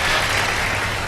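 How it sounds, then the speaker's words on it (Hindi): Brief, steady burst of studio audience applause on an iftar television show, even clapping with no voices over it. "बहुत सारी तालियां।"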